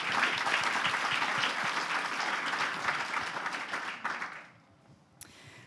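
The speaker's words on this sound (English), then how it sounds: "give a round of applause to all our panelists for joining us" Audience applause for panelists at a closing event: steady clapping from a sizable crowd for about four seconds, then thinning out and fading to near quiet with a stray clap.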